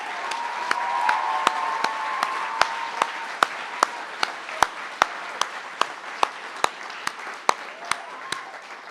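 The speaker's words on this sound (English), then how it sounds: "A huge round of applause for our head students for 2023," Audience applause at a school Year 13 honours ceremony for the head students, a steady wash of many hands clapping with sharper individual claps standing out at a regular pace, sustained throughout without speech.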